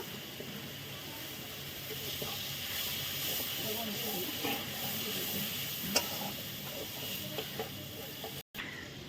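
Spice paste of ground green chilli, ginger paste, turmeric and coriander powder fries in a pan after a splash of water, giving a steady broad hiss and sizzle throughout with a few faint clicks, close and even.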